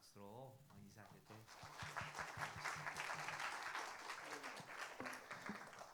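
A church congregation at Gonjiam Church applauds its departing pastor; a voice speaks at first, then steady clapping swells and holds to the end, with faint talk underneath.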